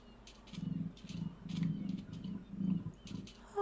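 A Minecraft emu repeats deep, low, drumming booms in three or four pulsing bursts, with faint game noises above them.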